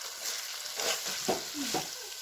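Drumsticks go into a pan of onion and tomato sautéing for an idli-side curry, giving a soft steady sizzle with a few scraping stir strokes, close and moderately loud, no voices.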